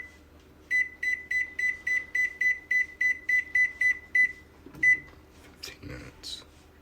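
An oven timer beeps while sourdough bakes: a run of about fourteen sharp, evenly spaced beeps at close range, then a single beep, then kitchen handling noises near the end.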